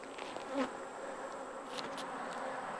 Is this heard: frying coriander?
no